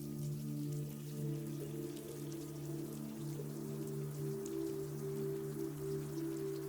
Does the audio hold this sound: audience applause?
no